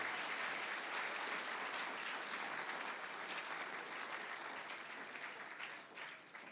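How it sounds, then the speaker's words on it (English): A large audience at a 2024 graduation ceremony of Presentation Brothers College gives the orchestra a sustained, even round of applause that fades slightly toward the end. "I honestly think our orchestra deserves another round of applause."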